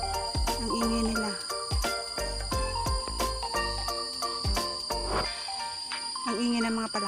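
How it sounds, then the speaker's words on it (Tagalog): Frogs call at night along a trail in the Central Catchment nature reserve: dense overlapping croaks and pulsing chirps with a high insect whine, under occasional voices. "Ang ingay ng mga palaka."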